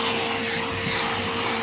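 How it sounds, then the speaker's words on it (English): A vacuum cleaner hoovers dust from a car interior while the vehicle is being detailed, its motor giving a loud, steady, close-up whine and rush of air. "Hoovering the dust out of those areas."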